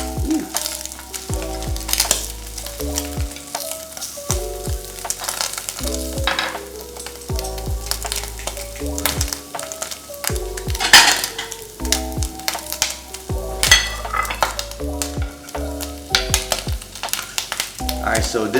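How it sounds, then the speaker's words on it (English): Slices of Spam browning in a pan for kimbap, sizzling and frying steadily while a utensil stirs and scrapes through it with repeated knocks against the pan, close and fairly loud throughout with no talking. "we're gonna cook our spam lightly brown"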